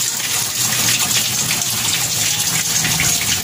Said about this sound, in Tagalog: Kasi pero una, lagyan muna natin ng tubig.